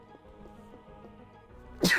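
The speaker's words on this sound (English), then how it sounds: "I'm about to fucking sneeze." A single sharp human sneeze bursts out at the very end, loud and close, after a stretch of quiet background sound.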